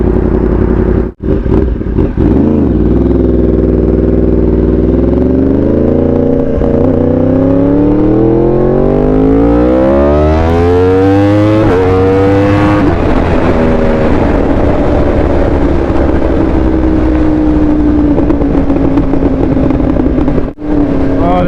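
A Yamaha R1 sport motorcycle revs loud and close, its engine pitch sweeping up and down through several throttle blips and sustained pulls while riding, with wind buffeting underneath.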